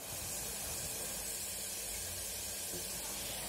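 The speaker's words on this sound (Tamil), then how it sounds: "ஆனியன் சேர்த்ததுக்கு அப்புறம் பச்சை வாசனை போற வரைக்கும் நல்லா வதக்கிக்கங்க." Onion and fennel paste sautéing in a pan for salna gives off a steady, quiet, broad sizzling hiss that stays even from start to finish.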